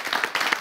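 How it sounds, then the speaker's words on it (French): A brief burst of audience applause at a live animation show finale, a dense patter of many hands clapping close by, over in under a second. "merci d'applaudir, s'il vous plaît."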